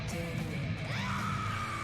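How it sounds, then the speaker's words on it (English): Video game scream, a short sustained cry with a rising and falling wail, moderately loud over a busy game soundtrack bed. "Oh, that's a scream."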